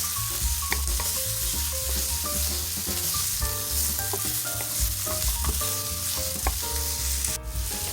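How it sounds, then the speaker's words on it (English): Minced garlic sautés in a hot pan with vegetables for stuffed bell peppers, giving a steady, loud sizzle throughout with scattered clinks and scrapes of stirring on top. "we're going to add in our minced garlic, and we're going to let that saute for 1 more minute"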